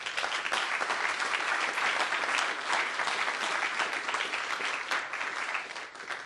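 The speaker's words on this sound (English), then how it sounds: "Let's give them a round of applause" Sustained applause from a conference audience at an innovation day event after the sponsors are thanked, a dense, even patter of many hands that holds steady for several seconds and then tapers slightly at the end.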